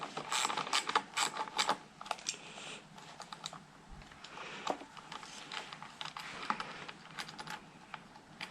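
A bolt is loosened on a crashed Suzuki DR650 motorcycle, producing rapid, close ratcheting clicks in irregular bursts throughout, with no talk.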